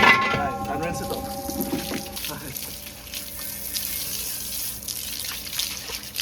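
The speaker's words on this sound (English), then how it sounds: "Right, and rinse it off." Water runs from a tap while soap is rinsed off hands at a traditional Trinidadian Indian prayer gathering, a continuous splashing trickle at close range that carries on steadily, starting louder and easing slightly.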